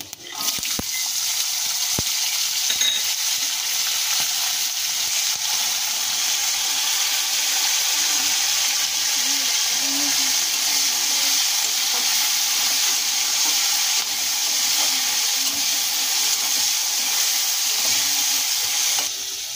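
Soaked chickpeas dropped into the hot potato-frying oil with five-spice seasoning, a loud, dense, continuous hiss and sizzle held close throughout, with faint stirring underneath and no voices.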